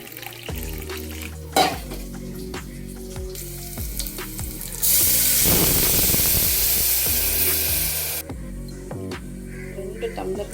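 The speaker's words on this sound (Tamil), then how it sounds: "ரெண்டு டம்ளர் வந்து வாட்டர்மெலன் ஜூஸ் ஊற்றிருக்கேன்." Two tumblers of watermelon juice poured into a pot holding one tumbler of rice: a loud, steady splashing rush lasting a few seconds, with lighter clinks and kitchen noise before and after.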